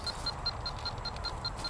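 Steady high-pitched beeps from an SF6 gas leak sniffer detector, about five per second, evenly spaced and unchanging over a soft background hiss.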